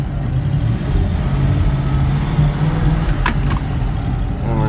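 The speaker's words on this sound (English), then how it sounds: "Let this 289 put in some miles. See, the car sounds absolutely amazing." A 1953 Studebaker Commander fitted with a 289 engine drives along, its low, steady engine rumble and drone continuous and close, with a brief faint squeak near the end.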